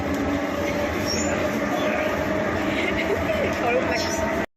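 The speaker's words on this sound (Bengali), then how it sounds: "আমার মেট্রো তো উঠে গেছি, অনেকক্ষণ আগে উঠে গেছি" Inside a moving metro train, a loud, steady rumble of wheels and carriage fills the space, with faint squeals and muffled voices underneath.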